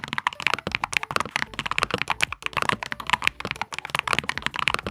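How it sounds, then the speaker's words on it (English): Rapid, crisp typing on a full-size Keychron K10 HE keyboard fitted with Lime magnetic switches, a dense continuous run of close-up clacks and taps with no voices. "they upgraded the switches to these ultra-fast Lime magnetic switches"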